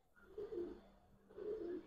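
Giribaz pigeons coo twice in low, rolling phrases separated by a short pause, near and soft against a quiet background with no one talking.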